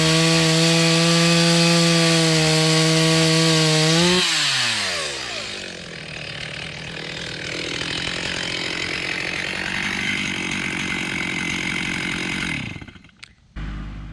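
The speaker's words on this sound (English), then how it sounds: "The MS-310 is a good saw, but it is not a pro saw" Stihl MS-310 chainsaw cutting through pine timber, loud and close: a steady high engine whine for about four seconds, then dropping in pitch and bogging as the chain bites into the wood, running on until the cut ends near the finish.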